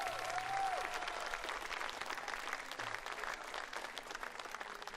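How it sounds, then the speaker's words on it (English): Audience applause at the STIHL TIMBERSPORTS New Zealand Pro Championship 2024, a dense, steady wash of clapping that stays fairly loud across the whole stretch, with a brief whistle-like tone near the start. "Give them another big round of applause"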